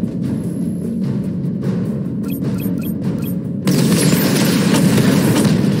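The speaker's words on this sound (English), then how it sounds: "Missile barrage level 2, ready." Missile barrage from Batman Arkham Knight bursts as a steady, dense rumble of booms, with a few sharp clicks partway through before the roar grows louder and fuller for the remaining seconds.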